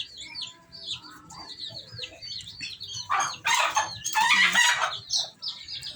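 Native hens with their chicks clucking and cheeping close by, with high peeping chirps throughout and a louder burst of clucking and wing flutter in the middle, no talk.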